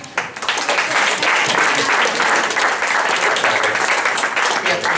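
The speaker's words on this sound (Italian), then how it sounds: "Applauso Andrea Baffo." A crowd applauds steadily at a school poetry event in Viterbo, dense clapping filling the whole stretch at a loud, even level.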